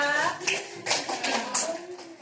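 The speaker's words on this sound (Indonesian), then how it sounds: "Tepuk tangan untuk kelompok 3." A short burst of scattered clapping from a small group of schoolchildren in a classroom, with children's voices talking over it.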